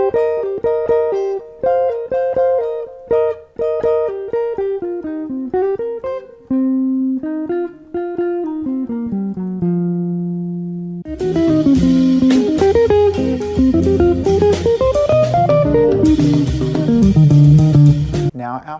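A jazz lick on guitar is played slowly as separate plucked notes that settle into held low tones, then fuller, denser playing with chords and a busier backing takes over.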